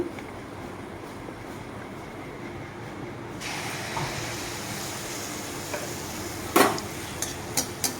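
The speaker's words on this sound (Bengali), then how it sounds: "এইভাবে এটাকেও আমি ভেজে নেব" Mango and semolina malpua batter fries in hot oil. A steady low sizzle rises to a brighter, louder hiss partway through, then a few sharp crackles and pops near the end, with no talking.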